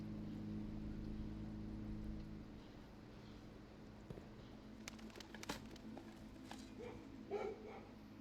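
Dogs bark in the Blue Prince video game, heard as a few faint, distant yips and barks over a low steady hum with some soft clicks.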